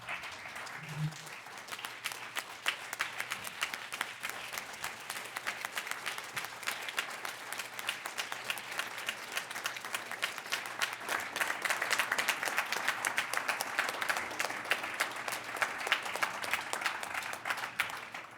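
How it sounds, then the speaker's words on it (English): Sustained audience applause closes a conference session on sports betting, a dense continuous roll of many hands clapping that swells slightly toward the end and carries on for nearly twenty seconds. "giving a man who's risked his life, who's lost a colleague and a friend, a round of applause"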